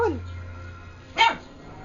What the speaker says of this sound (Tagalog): Kahol na ba ang aking baby?